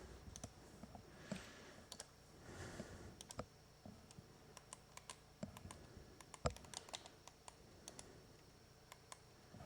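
Fingers type on a computer keyboard, entering a waypoint name into a Cessna 172 G1000 flight plan. Quiet, uneven bursts of clicky keystrokes come close by, with a few sharper taps standing out.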